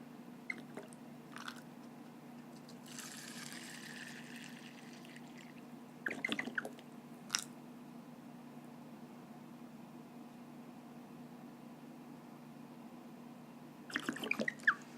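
Hydrogen peroxide poured over pumpkin seeds in cups, a soft liquid splash lasting a couple of seconds, set among quiet clicks and knocks of handling in an otherwise still room.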